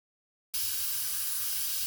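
An airbrush sprays pre-mixed mauve paint, a steady, close, even hiss that starts abruptly after a moment of silence and holds without a break.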